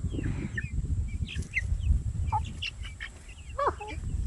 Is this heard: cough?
no